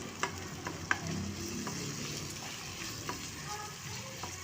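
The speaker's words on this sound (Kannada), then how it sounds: "ಹಾಕಿ ಚೆನ್ನಾಗಿ ಫ್ರೈ ಮಾಡಿ" Tomato and onion frying for a spinach and egg stir-fry make a steady close sizzle in the pan, with a few sharper clicks of stirring scattered through it.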